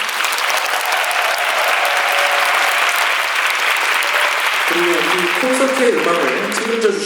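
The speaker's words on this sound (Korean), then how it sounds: "다시 한번 큰 박수 부탁드리겠습니다." Loud, sustained audience applause fills a concert hall at a musical concert, a dense continuous wash of clapping from a large crowd, with a speaker's voice joining over it near the end.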